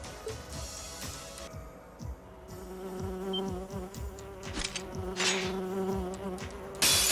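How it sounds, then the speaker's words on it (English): Bee-like insect monsters from Trails of Cold Steel II drone with a constant buzzing hum. Pulsing, wing-like beats sit under the game's background ambience for several seconds. "Those are some really nasty bee things."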